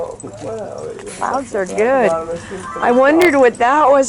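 A dog whimpers and yips in a run of rising and falling high whines, close by and fairly loud, mixed in with people chatting casually over it.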